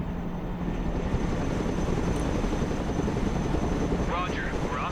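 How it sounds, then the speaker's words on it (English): Steady broadband helicopter rotor and engine roar from the military video game Broken Arrow, continuous and loud throughout, with a faint radio-style chirp near the end. "Helicopters are impressive machines. Boy, are they noisy."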